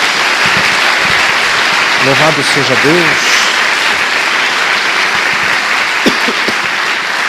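A church congregation applauds steadily and loudly throughout, while a voice speaks and calls out over the clapping.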